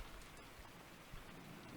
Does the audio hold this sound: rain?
yes